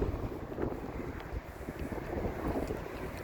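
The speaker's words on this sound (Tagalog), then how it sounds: "Maaraw pero mahangin." Steady wind rushes across the microphone, a low, constant blustery rumble with no voices present.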